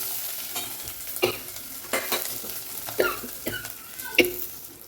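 Spices and crushed curry leaves crackle and sizzle in hot oil, with scattered pops and scraping stirs over a steady low hiss; no talking.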